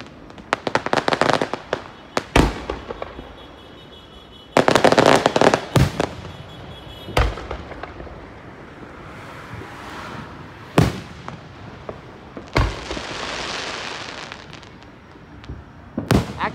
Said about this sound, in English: Actually, there's more fireworks around here until 10 o'clock.